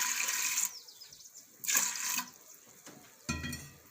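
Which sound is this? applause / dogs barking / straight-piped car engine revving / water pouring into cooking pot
water pouring into cooking pot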